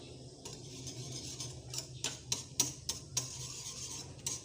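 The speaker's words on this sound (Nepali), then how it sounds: "अब म पिठो हाल्दै चलाउँछु।" Flour being stirred into boiling water in a pot to make dhido, with steady scraping and stirring and a run of sharp utensil knocks against the pot, close by, no talking.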